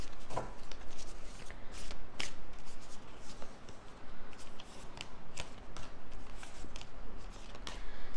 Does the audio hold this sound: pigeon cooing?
no